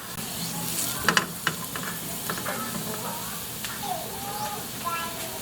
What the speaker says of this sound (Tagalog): So sa puntong ito, pwede na nating lagay yung bawang at sibuyas.